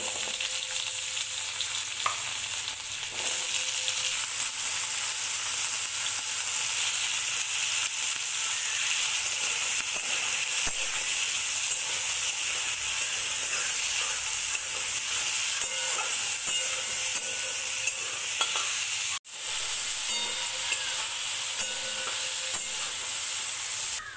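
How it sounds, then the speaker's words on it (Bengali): Potatoes fry in hot oil in a pan, giving a dense, constant sizzle and crackle that stays loud and even throughout, with no voices. "এবার ভেজে নেব আলু।"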